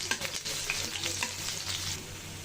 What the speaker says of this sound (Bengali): পেঁয়াজটা একটু ভেজে নিয়েছি আর বেরেস্তার কালার করবো না।